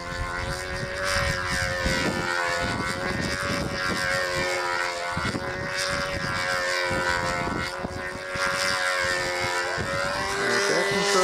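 A small model airplane engine drones steadily overhead during a competition flight, its buzzing pitch rising and falling as it passes, loud and continuous throughout.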